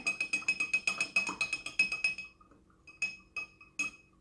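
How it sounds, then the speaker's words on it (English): A bar spoon stirs a bourbon-style mocktail in a glass, giving a quick run of bright, close clinks against the glass for about two seconds, then a few spaced, sharper taps as the stirring slows. "We're going to go ahead and give that another stir with our bar spoon"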